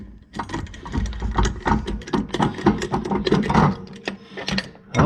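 A flywheel puller works on a 1973 Arctic Cat Lynx snowmobile, giving close, irregular mechanical ratcheting clicks and clanks that end in a final release, with no talking.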